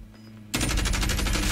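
A light machine gun firing in Call of Duty Warzone, a sudden loud burst of rapid automatic shots after a short quiet lead-in, fast and evenly spaced.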